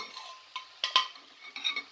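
A spoon stirs boiled daliya porridge in a pressure cooker, giving a few soft scraping strokes and a couple of sharp metallic clinks against the pot, close and fairly quiet.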